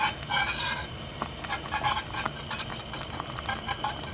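Scraping and stirring in a pot of boiling blueberry jam with a soft bubbling sizzle underneath, irregular rasping strokes at a moderate, close-up level.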